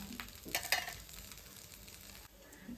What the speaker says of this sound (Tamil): தோசையை மடக்கி போடலாங்க இப்படியே கொஞ்சம் நேரம் வேகட்டுங்க